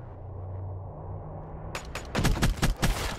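A Vesper fires in a video game match in a quick, loud burst of rapid shots starting partway through, preceded by quieter in-game ambience.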